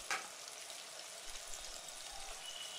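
Chopped onions and green chillies frying in a pan for a mutton liver fry, with a soft steady sizzle after a brief clatter at the start and no talk.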